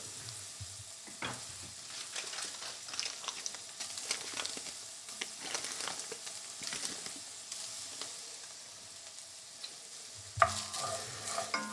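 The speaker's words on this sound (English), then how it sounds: "So I'm going to add 2 tablespoons of butter." Butter melting in a frying pan with browned sausage meat for sausage gravy, giving a steady soft sizzle with scattered stirring scrapes and a sharper clatter near the end, with no talking.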